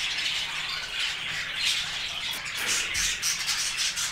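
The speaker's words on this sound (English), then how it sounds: "they're called Bear-Eyed Cockatoo" Bare-eyed cockatoos in an indoor bird room give harsh, screechy squawks and calls that carry on continuously, moderately loud and close, with no talking.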